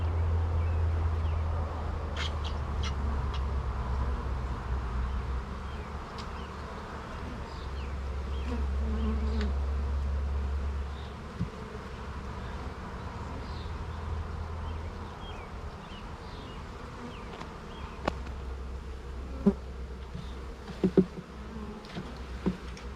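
A swarm of honeybees that settled in a shop buzzes during a hive inspection: a continuous, fairly soft droning hum with individual bees passing closer now and then.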